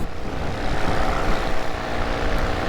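Polini Thor 202 paramotor engine running steadily at high power, a loud continuous propeller drone with no break across the few seconds.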